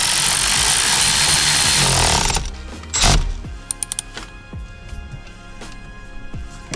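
Power tool driving in the large center bolt that holds a steering wheel onto its shaft in a custom Hellcat interior, a loud sustained whirring burst for over two seconds, then a short clunk followed by quiet ratcheting clicks and handling noises.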